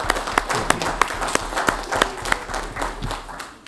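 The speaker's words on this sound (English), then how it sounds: "I want everybody to join me in an applause for the effort of this parish and this administration" Clapping from the audience at a Livingston Parish Council meeting: a steady run of distinct, fairly loud hand claps from a modest group, with no voices over it.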